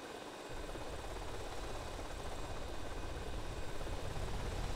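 A steady, loud aircraft engine drone from GTA Vice City, continuous and close for the whole stretch with no break.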